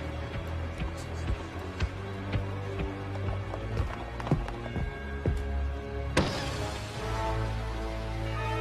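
Clydesdale horse hooves clop at a steady, unhurried pace over a constant low hum, with a sharper knock near the end.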